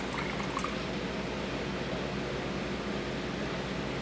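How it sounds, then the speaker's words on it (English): Room-temperature water runs steadily into a pint glass canning jar, a soft continuous hissing flow heard close, with a faint clink near the start and no talking. "So I'm gonna go ahead and add my 1 cup water to my other one."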